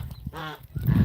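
Pet geese honk close by in a short burst, with one drawn-out nasal call amid rustling and other bird noise.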